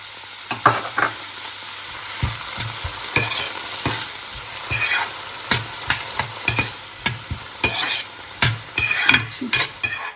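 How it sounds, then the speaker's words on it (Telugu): Small chopped tomato pieces fry with lightly browned onions in a pan for a tur dal chutney, with a soft background sizzle under a series of sharp, repeated stirring clinks and scrapes. "టూ టొమాటోస్ని చిన్న చిన్న ముక్కలుగా చేసుకుని వేసుకున్నాను"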